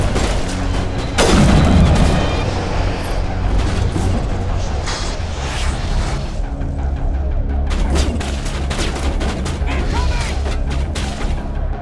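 Heavy rifle shots boom amid dense combat noise in the video game Mass Effect Legendary Edition, with a loud blast early, then scattered reports over continuous battle din.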